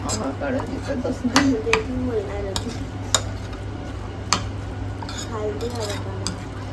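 Spoon clinking and scraping against a bowl while avocado toast ingredients are mixed, a string of sharp metallic taps and stirring scrapes, close by, with someone talking over it.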